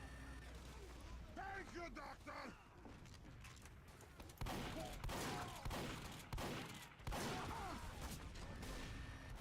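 Sharp sniper rifle shots ring out in a Team Fortress 2 match amid other gunfire and mechanical clatter, recurring every couple of seconds under players' voices.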